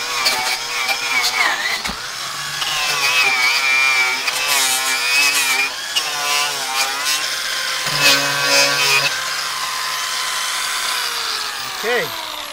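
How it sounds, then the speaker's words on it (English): Electric grinder removing rust from a metal roof seam, a loud, close, sustained whine with rough scraping and shifting pitch as the disc bears on the metal, easing off briefly near the end. "the electric grinder works much faster"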